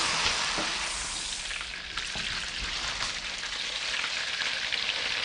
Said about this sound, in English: Now we'll fry the prawns. The oil must be very hot.